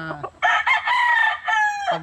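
A young rooster, a stag with a bull-stag build, crows once in a long, loud, harmonic call lasting well over a second, broken by brief dips. It is preceded by short clucking notes and ends on a low cluck, with no voices present.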